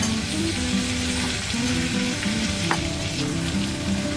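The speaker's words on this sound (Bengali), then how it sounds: "ভালো করে মিক্স আপ করে দিব মশলার সাথে আলু ফুলকপি। একটুক্ষণ ফ্রাই হওয়ার জন্য ছেড়ে দিচ্ছি এখানে" Potatoes and cauliflower fry with masala in a pan, a loud continuous sizzle with faint scraping.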